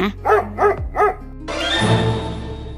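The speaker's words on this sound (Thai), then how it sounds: "ฉินเซียนเนี่ยก็เห่าเหมือนหมา" Four quick, loud barks from a dog ring out in an even rhythm, close and punchy, used as a sound effect in a narrated manga story, followed by a steady hiss of background noise.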